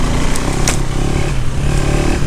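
A KTM 390 Adventure motorcycle's small single-cylinder engine revs steadily and loudly throughout, a continuous buzzing drone held in a low gear with slight rises in pitch and no voices.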